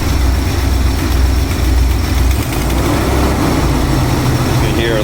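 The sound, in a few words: Ford Jayco RV engine accelerating, possible exhaust leak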